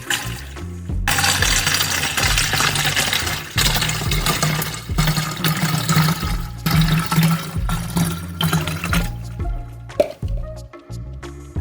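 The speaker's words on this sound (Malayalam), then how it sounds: "നമ്മൾ ചെയ്യാൻ പോകുന്നത് ഈ കുപ്പിയിലേക്ക് ഈ ആസിഡ് വാട്ടർ ഒഴിക്കാം." Acid water is poured into a bottle in gurgling, splashing bursts, a steady liquid stream with bubbling glugs that pauses midway and trails off into a few drips near the end.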